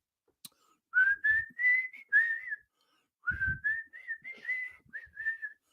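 A person whistles a wavering melodic line in two short phrases of several notes each, clear and close with quiet pauses between, with no other sound beneath.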